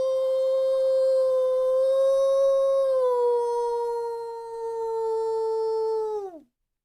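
A single long, sustained howl from a dog or wolf holds a steady, rich tone for about six seconds, dips slightly midway, then slides down and cuts off, loud and close with no talk.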